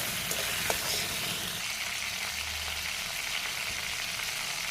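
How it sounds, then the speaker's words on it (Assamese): Local chicken with spices frying in a pan makes a soft, even sizzle, with a couple of faint stirring clicks early on and a quiet low rumble partway through. "এতিয়া আকৌ ভালকৈ এইখিনি লৰাই ভাজি ল'ম"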